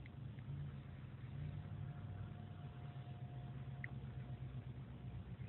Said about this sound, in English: Yes, I see the car going by.